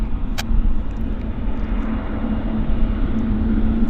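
A plane on the ramp at Vancouver Airport (YVR) makes a loud, steady low jet-engine rumble with a sustained hum, heard continuously at close range, with a couple of faint clicks on top and no speech.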